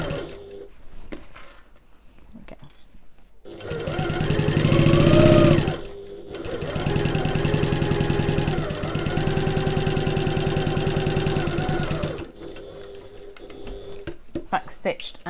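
A domestic sewing machine stitches along the top of a fabric backpack panel in a few steady, whirring runs with short pauses between, while someone talks softly before and after.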